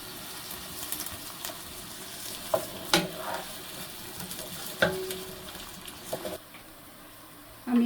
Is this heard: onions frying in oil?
yes